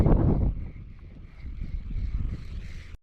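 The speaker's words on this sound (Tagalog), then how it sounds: "Abot na nga yung hangin dito" Steady wind gusts at sea buffet the microphone with low rumbling noise, a louder burst at first, then continuous blustery whooshing.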